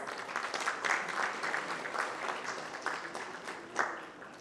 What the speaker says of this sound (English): Let's once again have a big round of applause.